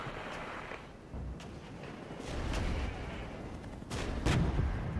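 Artillery fire in the strategy game Regiments: several muffled booms and blasts spread across the clip, with a strong low impact near the end over steady battlefield rumble.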